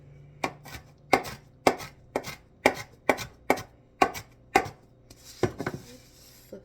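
Vegetables being chopped on a cutting board for iguana food, about a dozen crisp knife strikes in an uneven rhythm, close and clear with quiet pauses between them and a short flurry of cuts near the end.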